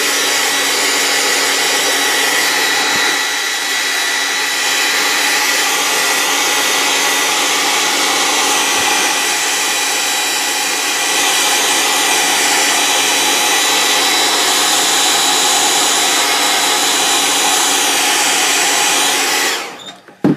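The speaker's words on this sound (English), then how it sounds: "So next we're just going to grab our hair dryer and we're going to heat set this" A hair dryer blows steadily for about twenty seconds to heat-set airbrushed base white paint on a homemade stencil, a loud, even whooshing roar close by that cuts off abruptly at the end.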